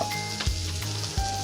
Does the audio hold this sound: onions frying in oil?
yes